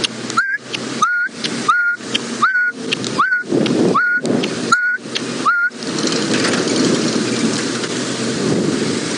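A person imitates the black-backed puffback's call on an outdoor safari, giving about eight evenly spaced, clicking whistled notes, each ending in a rising chirp. The calls sound over a steady background of rain or rushing noise that continues after they stop.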